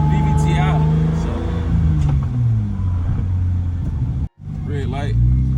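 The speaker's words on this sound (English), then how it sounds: "I'm gonna rev it to the moon again." A Lexus SC300 with a manual transmission swap and VVTi engine revs, its rising and falling drone rumbling steadily throughout, with a brief gap near the end before revving resumes loud and close.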